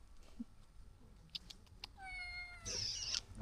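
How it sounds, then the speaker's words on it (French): Small kittens near Lake Sarangan in Indonesia give faint, thin meows, ending in one louder, higher cry over soft outdoor background noise. "Oh, les petits chats."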